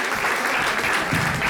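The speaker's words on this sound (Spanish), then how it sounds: "fuerte el aplauso para Facundo." An audience at a folk music gathering claps for a performer named Facundo, loud, dense, continuous applause filling the whole moment.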